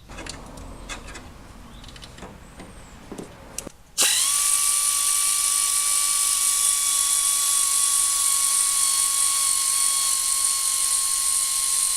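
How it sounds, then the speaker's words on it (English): An air ratchet spins out starter motor bolts on an engine: faint clanks, then a sudden loud, steady high whine that runs unbroken for several seconds, with no voices. "The air ratchet is not especially quick as a tool. It rotates relatively slowly"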